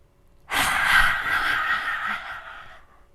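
A deep breath during a yoga session, a single long, airy exhale that starts abruptly and slowly fades over about two and a half seconds, close and clear.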